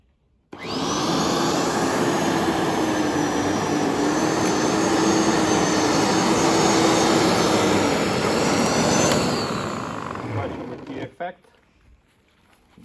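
A Parkside PLV 1500 B1 electric lawn aerator-scarifier runs across a lawn with a loud, steady roaring whir and rattling tines for about ten seconds before spinning down to quiet.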